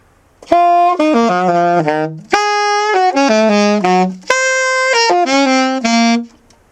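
A solo saxophone plays a short minor-key jazz phrase of sustained notes in three bursts with brief pauses between, clear and close.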